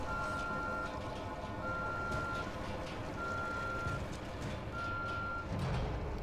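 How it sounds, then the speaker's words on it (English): Repeated electronic beeping from The Evil Within video game, four evenly spaced steady tones over a constant low rumbling background, with no talk. "once it starts beeping, wait for it to start beeping"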